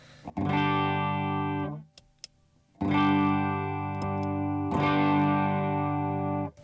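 Three strummed guitar chords through a gain pedal on a G3 Atom break up into a crunchy distorted tone, each ringing loudly for over a second before cutting off, with short gaps of near-quiet between.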